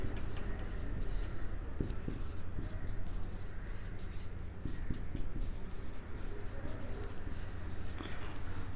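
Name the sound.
writing on a board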